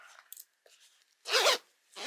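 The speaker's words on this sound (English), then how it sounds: "Let's see if we got a solid zipper." A zipper pulled in a few short scratchy bursts, ending in a long loud zip, then another starting, close up with no talk.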